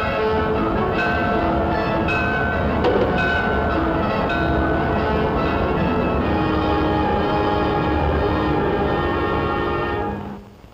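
An electric train, the Clipper, rushes past with a steady, loud roar and rattling wheels, a horn-like tone sounding briefly, then fading out at the end.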